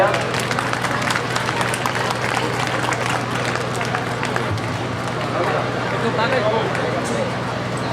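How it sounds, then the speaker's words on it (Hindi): Sustained, vigorous applause from a big audience at an award ceremony, a continuous wash of clapping with crowd babble underneath. "बहुत बढ़िया, जोरदार तालियां।"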